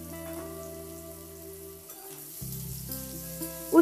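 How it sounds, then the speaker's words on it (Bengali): Bitter gourd fries in hot mustard oil with a soft, even sizzle that rises a little partway through and ends with a short knock. "একটু ভেজে নেব।"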